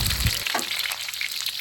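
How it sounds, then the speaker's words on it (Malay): Onions frying in a pan while being stirred, with a steady sizzle and a couple of scraping stir strokes near the start. The sound is close and continuous, with no talking. "Gaul kita punya bawang ni."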